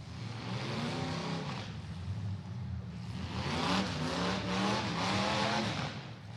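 A battered demolition derby car at a rural derby event, its front wheels jammed into the firewall, revs its engine on the throttle, a rough droning roar that rises and falls and grows slightly louder midway.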